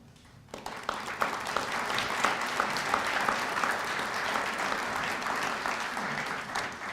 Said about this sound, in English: if you'd please stand for a round of applause, I'd appreciate it.